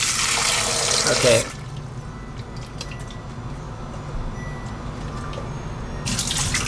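Tap water runs hard into a milkshake cup for about a second and a half, then cuts off, leaving a quiet room with a brief spoken word and a short burst of running water at the very end.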